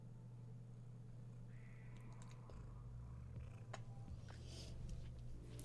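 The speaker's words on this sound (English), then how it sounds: "She's such a good kitten." A pet cat purrs steadily and close on a desk, a continuous low rumble throughout with a few faint small clicks and rustles.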